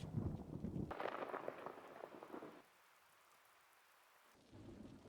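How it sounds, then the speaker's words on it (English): Heavy rain pours with rumbling thunder in the video game Cities: Skylines, then drops away to near silence for a couple of seconds before the downpour resumes. "Thunderstorms, thunderstorms, thunderstorms."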